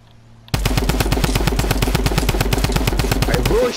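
Automatic gunfire in the Fortnite video game: after a brief quiet start, a rapid, steady stream of shots rattles on loud and close for about three seconds before stopping abruptly.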